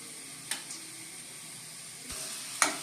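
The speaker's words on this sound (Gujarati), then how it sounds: "આપણે આને મિક્સ કરી દીધું ખાંડ અને લીંબુ નાખીને।" Bhel being stirred with sugar and lemon in a bowl, giving faint continuous rustling with a few brief sharp clinks of a spoon, close and quiet with no talk.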